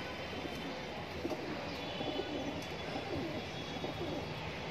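Faint, low coos from border high flyer pigeons on sale in Mumbra, Thane sit deep in a steady wash of background noise, with a few soft ticks scattered across the clip.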